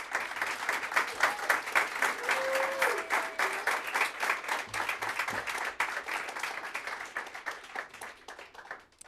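A lecture audience applauds to welcome a speaker, dense, brisk clapping from a sizable crowd that holds steady and then gradually tapers off toward the end.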